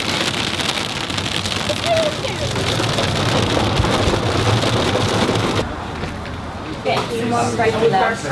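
Rain from a storm on a coastal road trip falls as a steady, loud hiss mixed with wind buffeting the microphone, briefly easing near the end while people talk over it.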